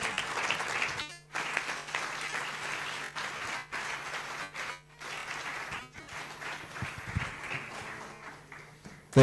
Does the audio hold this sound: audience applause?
yes